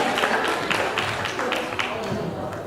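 Audience applause for a guest speaker at a campus event in Malang, a steady wash of many hands clapping with scattered sharp claps standing out, mixed with crowd murmur and voices over it.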